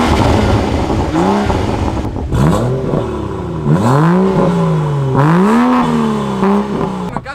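A BMW 435i with a downpipe exhaust revs and accelerates loudly nearby, its engine note rising and falling in repeated sweeps over a constant roar, no talking.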